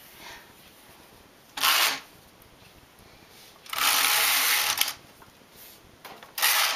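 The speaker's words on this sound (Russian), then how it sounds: "Провязываю 2 ряда." A knitting machine's carriage makes three rasping mechanical sweeps while knitting two rows, each a loud burst with quiet pauses between, heard close with no talking.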